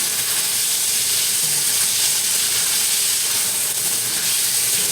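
Ginger sizzling steadily in a hot pan while being stirred for sesame chicken with green beans, a dense continuous hiss at close range with no talk over it.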